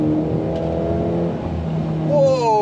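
A 2025 Toyota GR86 sports car's engine revs through a corner, the pitch rising and falling before climbing sharply near the end, heard from inside the car.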